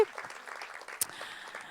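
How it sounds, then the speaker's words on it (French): An audience applauds the panelists of a mentors' round table at an evening event, a steady, even wash of many hands clapping together at moderate distance, with no single voice standing out. "On peut les applaudir."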